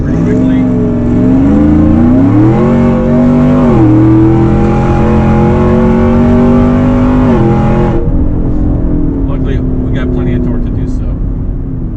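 A supercharged 2018 GMC Yukon Denali with a Corsa exhaust accelerates hard up a tight on-ramp, its engine rising in pitch through gears, loud and close, then easing off near the end.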